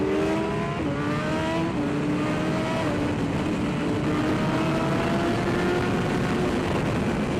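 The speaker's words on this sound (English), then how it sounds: "trailing the front brake, rolling in the throttle, getting on it" A racing motorcycle engine on track revs hard and loud as the throttle rolls on, its pitch climbing through stepped rises between gear changes against constant wind roar; no talking.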